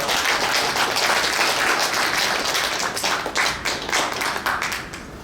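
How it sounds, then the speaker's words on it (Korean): Crowd at a civic group's New Year gathering gives a loud, steady round of clapping, dense and continuous before thinning slightly into more distinct individual claps near the end. "큰 박수 부탁드리겠습니다"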